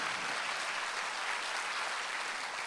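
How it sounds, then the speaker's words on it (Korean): Steady applause from a congregation during a Sunday church service, dense and continuous, filling the space at an even level without pauses. "박수 하나 돌렸어요."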